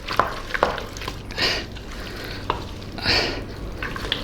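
A spoon works through a thick Christmas pudding mixture in a bowl, giving wet squelching strokes and a few sharp clicks against the bowl in an uneven rhythm, close and fairly quiet, with no talking.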